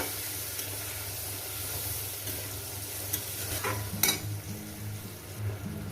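Fish and poppy seed paste fry in a pan with a steady soft sizzle, stirred now and then with faint scraping, close and continuous, without talk.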